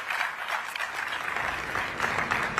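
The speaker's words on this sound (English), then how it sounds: "And you can continue to applaud," Audience applause fills a climate summit session hall, a steady dense wash of many hands clapping throughout with no voices over it.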